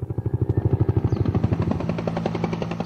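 A helicopter flies over coca fields in Bolivia, its rotor thumping in a fast, regular pulse that is loud and close, with the beat softening slightly toward the end.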